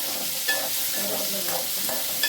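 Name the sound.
onion and curry leaves frying in a pan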